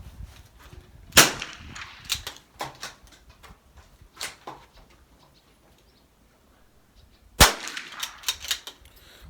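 Rifle shots ring out at an outdoor shooting practice session in Nanaimo: two loud, sharp cracks about six seconds apart, each followed by quieter clicks and taps, with faint background sounds in between.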